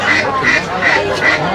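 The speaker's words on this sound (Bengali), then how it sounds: "এই দিকটাতে দেশি হাঁস আছে এখানে" Native Bangladeshi ducks at a rural poultry market quack in a loud, close, evenly spaced series of four calls, with a voice talking over them.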